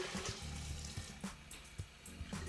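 Water is poured into a blender jar while cooking brown rice, a steady splashing gush with small irregular bursts, close and moderately loud, with no talking.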